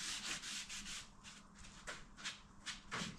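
A worn, crumbling sponge scrubs a boat's surface in steady, close, rasping back-and-forth strokes, with a few sharper swipes near the end and no talking.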